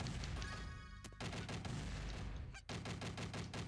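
Rapid bursts of gunfire in the video game Cheesy, dense repeated shots over a low booming bed with a brief break, quiet overall.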